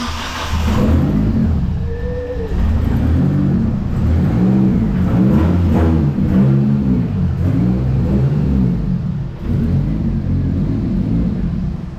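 A car with a rebuilt Mitsubishi 4G92 turbo engine out on a night test drive, its engine rumbling and revving up through the gears, loud and close from inside the cabin.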